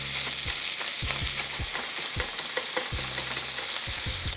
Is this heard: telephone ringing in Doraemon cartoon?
no